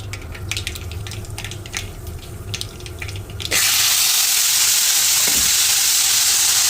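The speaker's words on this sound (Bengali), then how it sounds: "একটি কড়াইয়ের মধ্যে তেল দিয়ে তাতে সরিষা দিয়ে দিয়েছি। সরিষা এখন ফুটবে" Mustard seeds in hot oil in a wok, crackling with scattered pops at first, then a sudden loud, dense, steady sizzle, close and with no talking.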